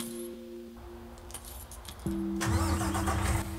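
A mining truck in a farming video game cranks briefly and then catches, its engine settling into a loud, steady idle with a low rumbling drone.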